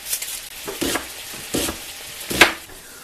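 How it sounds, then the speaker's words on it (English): Chopped onions sauté with bacon in a pan, and a utensil stirs and scrapes in several separate strokes over a soft, low sizzle. "Onions in particular, I like to saute with the bacon."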